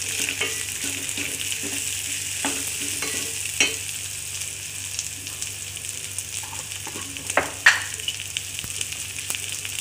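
Onions and green chillies fry in a pan for a stuffed potato chapathi, giving a steady broadband sizzle with occasional stirring clinks and scrapes, close and continuous with no talking.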